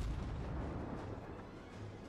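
Naval gunfire in the World of Warships video game, a dense continuous rumble of heavy artillery booms rolling together, loud and steady throughout with no talking.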